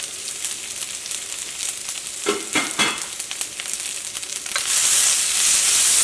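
Onion, ginger and green chilli frying in hot oil for an egg roll filling, with a steady sizzle, a few stirring scrapes in the middle and a louder hiss swelling near the end, no talk.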